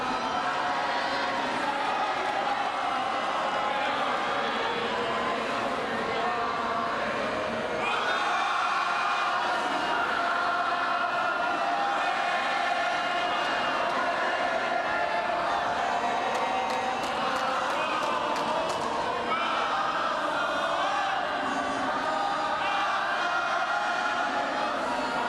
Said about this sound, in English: La Marseillaise sung out by the crowd in full support of Heckel